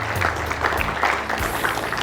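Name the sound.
audience applause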